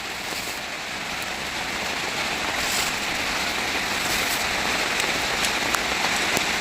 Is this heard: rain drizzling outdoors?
yes